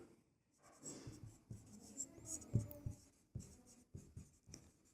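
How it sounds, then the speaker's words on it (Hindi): Handwriting of numerals during a Class 10 maths lesson on pairs of linear equations, a steady run of close scratching pen strokes in short bursts with brief pauses, no speech over it. "अब यहां पर हम लिख लेते हैं अंक।"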